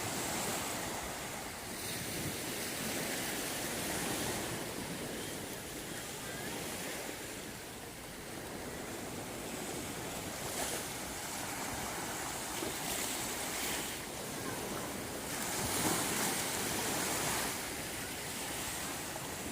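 Ocean waves wash onto a beach as the tide rises, a continuous rolling surf roar with swells breaking now and then, loud and near, with wind buffeting the microphone and no talking.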